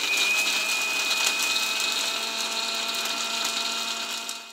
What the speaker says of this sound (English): So that we get a nice smooth paste to our Recheado Masala, I always like to grind my dry ingredients first.